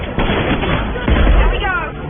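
Gunfire crackles in the video game Mass Effect 2, a dense barrage of shots and impacts over a couple of seconds, with voices speaking over the combat.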